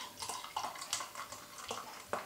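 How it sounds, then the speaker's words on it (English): Wold Top Brewery Scarborough Fair IPA glugs from a bottle into a pint glass, a close, uneven run of liquid splashes and gurgles with several sharper bursts, with no talk. "And I'm pouring into a nice little pint glass here."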